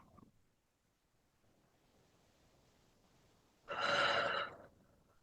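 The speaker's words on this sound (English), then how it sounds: "And then just take a deep breath again." A single deep breath, heard close and alone during a calming EFT tapping exercise, a soft airy inhale or exhale that swells for about a second amid near silence.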